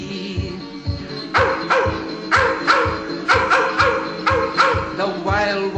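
Dog barks in a 1950s novelty song about hounds baying in Kentucky, a dozen sharp yips and bow-wows landing roughly on the beat over a steady rhythmic backing track, loud and upfront throughout.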